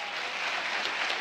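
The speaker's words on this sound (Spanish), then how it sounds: "un aplauso para él" Studio audience on a Spanish-language talk show applauding, a brief, steady wash of many hands clapping at moderate level from a short distance.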